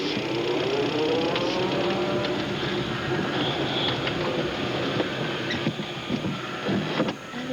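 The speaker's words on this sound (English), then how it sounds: "There's a car out there." A car passing outside a cemetery, a steady loud rolling road rumble with some rattling that holds for several seconds before easing slightly, close to the listener and with no speech.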